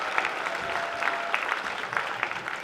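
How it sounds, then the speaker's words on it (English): Crowd applause at a secondary schools basketball championship in an arena, a steady sustained clapping with scattered louder claps throughout, no voices standing out. "Another round of applause, Hamilton Girls."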